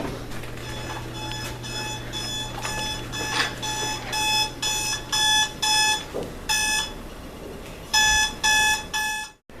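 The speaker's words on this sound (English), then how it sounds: "my roommate alarm just keeps waking me up" An alarm clock rings in repeated electronic beeping bursts, loud and close, with a steady low hum underneath and a few short pauses between bursts.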